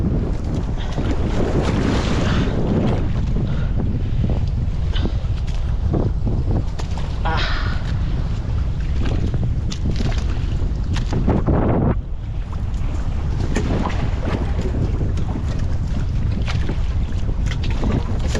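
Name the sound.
big waves hitting a boat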